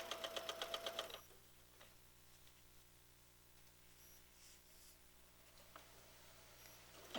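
A sewing machine stitches fabric strips together in a rapid, even burst of needle clatter for about a second, then stops, leaving a faint room hum.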